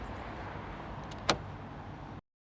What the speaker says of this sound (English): Then I'll open the door and show it to you guys.